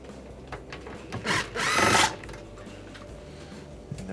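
A power driver backing number 2 Phillips screws out of a panel on a Sub-Zero refrigerator being repaired for not cooling, one short whirring burst amid quiet handling noise.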